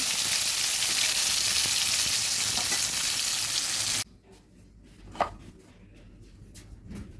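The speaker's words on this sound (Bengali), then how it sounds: "এই মাছগুলো প্রায় ভাজা হয়ে গেছে" Katla fish fries in hot oil with a loud, dense, steady sizzle for about four seconds, then the sound cuts to a quiet background broken by a single utensil clink and faint scraping.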